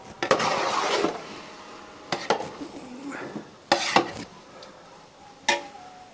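Carrot halwa cooks in a pot and is stirred with a spoon, giving a few distinct, irregular scrapes and knocks against the metal over a low background sizzle, close and moderately loud.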